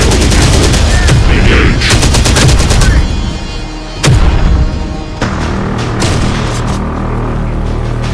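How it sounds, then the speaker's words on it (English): Heavy gunfire in the video game Terminator: Dark Fate – Defiance, loud rapid automatic bursts and booms that drop off and then return more sparsely, with a synthetic voice speaking over the battle. "Enemy fire."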